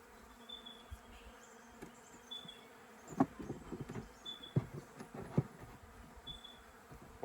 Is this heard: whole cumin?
no